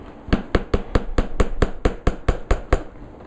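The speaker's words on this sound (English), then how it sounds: "Hammer it in a little bit if you need to." Hammer tapping into a cardboard birdhouse, a steady series of about a dozen sharp, close knocks at an even, brisk pace.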